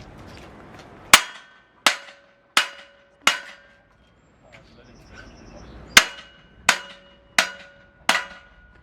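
A hammer striking a metal frame while a tower is erected: four loud ringing clangs at a steady pace, a short quiet pause, then four more, each decaying with a metallic ring.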